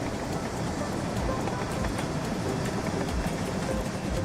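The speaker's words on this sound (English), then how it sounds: "you see the train slowing down" An AI-driven train runs along the rails of a model railway layout in the Rolling Line game, with a steady rolling rumble and a faint, regular clickety-clack over the wheels. A voice speaks quietly under the rumble.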